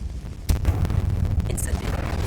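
A Confringo blasting spell from Hogwarts Legacy detonates with a sharp burst, followed by a sustained rumbling blast and crackling debris, with a voice heard around it.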